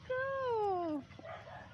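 Bruno, a pet dog out on a walk, gives a drawn-out whining whimper that slides downward, then a few softer yips and small sounds close by.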